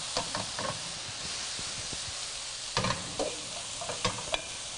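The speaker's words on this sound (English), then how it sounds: "I'm gonna give this a good stir." Frozen shrimp frying in a pan give off a steady soft sizzle, broken by scattered scrapes and knocks as a utensil stirs them, close and fairly quiet.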